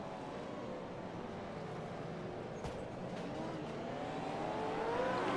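Pack of V8 race cars in a racing simulation game sweeping past in a steady, dense engine roar that builds slightly toward the end, with no voices over it.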